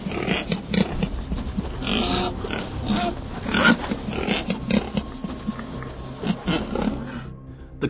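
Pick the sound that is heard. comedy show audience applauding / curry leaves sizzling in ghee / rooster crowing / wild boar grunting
wild boar grunting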